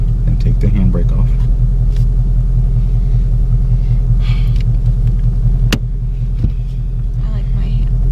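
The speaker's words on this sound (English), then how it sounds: "put the clutch in, bring it into neutral, and then start it" The engine of a manual-transmission car idles with a steady, loud low rumble, while people talk over it throughout.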